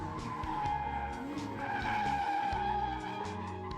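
BMW E46 drifting after a rear subframe fix, tires skidding and squealing loudly over a revving engine, the screech sustained and wavering in pitch throughout.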